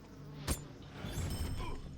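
Quiet insect buzzing from bees in the online game Lord of the Rings Online, a faint droning hum with a brief sharp thump near the start.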